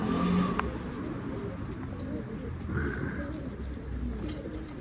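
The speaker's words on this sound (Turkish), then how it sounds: "Bu kuş hiçbir yere gitmez arkadaşlar." A soft pigeon coo sounds briefly amid steady outdoor background noise, with faint distant traffic.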